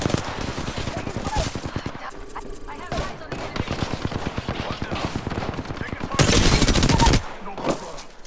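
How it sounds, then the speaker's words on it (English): Rapid automatic gunfire in the video game Apex Legends, dense bursts of close shots rattling for several seconds with brief pauses and a louder volley near the end. "They're shooting at me"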